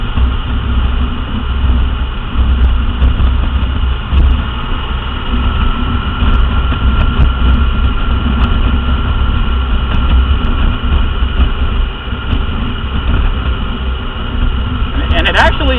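Triumph Rocket III Touring motorcycle riding at steady speed, its big engine a constant deep drone with wind rush throughout, slight dips as gears shift, loud and close.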